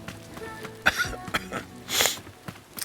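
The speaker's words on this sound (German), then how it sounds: "It's just a small cough." A character in the Beast of Reincarnation video game coughs a few times in short, rough bursts over faint game background sound, with no talk.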